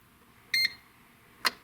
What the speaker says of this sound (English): For 2 seconds, it'll beep, and now that will always be on.